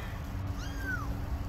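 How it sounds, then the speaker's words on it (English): A small stray kitten gives a single thin, high, rising-then-falling meow, faint to moderate against quiet outdoor background noise. "the kitten's out and all alone"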